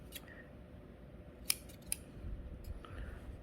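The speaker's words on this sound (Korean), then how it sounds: "다대 테이프 한쪽 면만 접착되는 테이프 흰색 검은색이 있는데 요 길이만큼을 갖다가 잘라 줄 거예요" Scissors snip single-sided adhesive tape, white or black, while a torn pair of jeans is being mended: two crisp, sharp cuts close by over a low, steady room hum.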